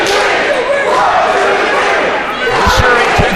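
A loud indoor crowd at an independent wrestling show roars and shouts steadily, with a few heavy thuds near the end.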